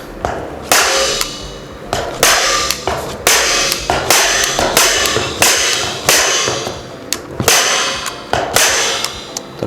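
A Stanley FatMax FMHT0-80551 staple gun fires repeatedly into a U-shaped metal ceiling profile, producing about a dozen sharp, loud metallic snaps at a quick, fairly regular pace, each followed by a short ringing decay.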